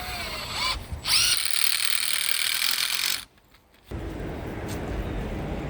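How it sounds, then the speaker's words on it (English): A power drill with a star bit drives a screw into a raised garden bed in a school garden: a loud whirring burst, a brief pause, then a steadier whir. "Drilling it in. And that's the star bit"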